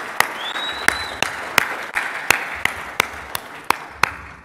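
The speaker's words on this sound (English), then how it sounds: "Give a round of applause." Sparse, evenly spaced claps from an audience at the EO San Diego Alchemy event, about a dozen sharp hand claps with gaps between them, faint room noise underneath and no speech.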